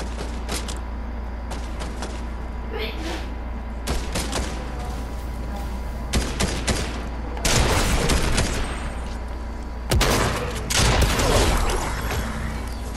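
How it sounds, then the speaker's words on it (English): Gunfire in a Fortnite Zero Build match, repeated cracks and short bursts, some close and some farther off, over a constant low hum of game ambience. "Somebody shooting at us?"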